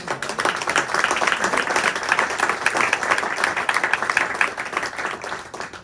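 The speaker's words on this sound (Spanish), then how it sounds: "Denle un fuerte aplauso al Señor" A Pentecostal church congregation claps loudly together, a thick continuous burst of hand claps filling the room with a slight fade at the end.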